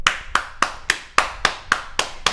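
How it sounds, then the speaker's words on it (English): Hand claps ring out one after another in a steady, even rhythm, roughly three or four per second, nine sharp slaps in all, close up and alone with no voices over them. "hey, you gotta clap"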